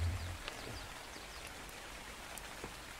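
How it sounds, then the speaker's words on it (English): Steady rain falls across the landscape of the video game Ark, a dense even hiss with scattered droplet patters that continues throughout without any talk. "It would be raining."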